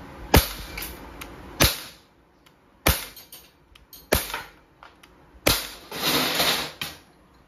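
An Umarex Glock 17 Gen 3 dual-ammo airgun fires lead pellets in a string of about six sharp, close cracks at irregular intervals, each followed by a short metallic ring, with no talking.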